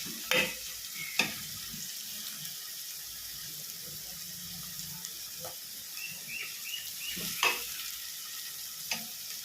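Quiet, steady sizzling from a pan of sautéing ingredients for village-style seer fish curry, with occasional clinks and stirring scrapes, close and low in volume.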